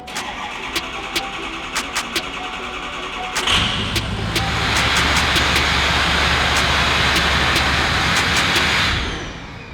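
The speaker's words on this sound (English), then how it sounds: "let's go ahead, pull the bus in, and start cutting some things" A diesel bus starts up and idles loudly inside a shop, its steady engine rumble building after a few seconds and holding close by until it cuts off near the end, with sharp clicks and knocks over the engine.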